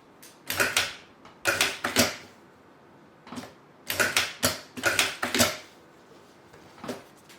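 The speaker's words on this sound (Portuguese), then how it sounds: "Se você for costurar, a minha dica é diminui o ponto da sua máquina e faz um retrocesso" Sewing machine stitching a small shoulder bag strap with a reverse stitch, several short bursts of rapid mechanical clattering separated by brief pauses, close up and with no talking.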